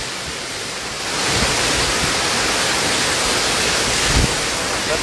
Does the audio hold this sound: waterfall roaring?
yes